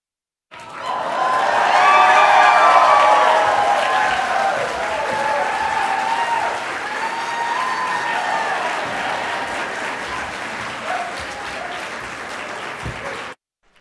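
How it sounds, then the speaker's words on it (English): A live audience at a show breaks into sustained applause with cheering, loud at first and easing slightly while the crowd keeps clapping steadily for over ten seconds. "Everybody better clap for him."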